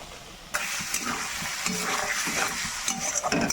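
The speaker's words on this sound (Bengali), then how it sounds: "এই মশলাটাও তেলের সঙ্গে ভালো করে ভাজা হবে একটু।" Spices fry in hot oil for a Bengali tangra fish curry, a close, steady sizzle with repeated scraping stirs of the pan.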